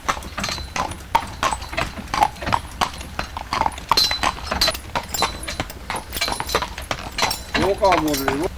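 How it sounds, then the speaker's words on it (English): A horse named in a walk-on command clops steadily on hard ground at a campsite in Ireland, the hoofbeats close and rhythmic, with a person's voice talking over them and a high whinny-like call near the end. "Walk on, Waterloo."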